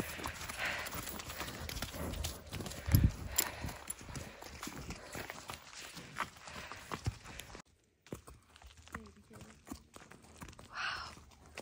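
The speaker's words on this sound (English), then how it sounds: "Riding my horse too." Steady clip-clop of a horse's hooves walking at an unhurried pace on a farm on the Olympic Peninsula, close by, with crunchy footfalls and occasional voices over it.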